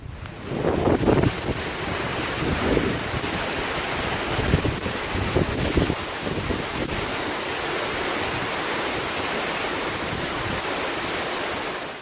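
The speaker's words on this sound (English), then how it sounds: "There's a 20-second video of just a beach." Ocean waves wash onto a beach as a recording plays back, a loud continuous surf roar with heavy wind buffeting on the microphone and a few stronger surges early on.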